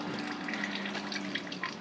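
Water from a small public drinking fountain pours steadily into a camper's fresh-water tank, giving a continuous close gushing rush with no pauses or voices.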